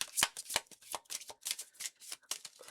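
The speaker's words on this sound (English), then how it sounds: "Here, I've got cards flipping out all over the place, so we're going to start again" Oracle cards being shuffled in a rapid run of papery riffles and flicks, close and fairly loud, with no talking over them.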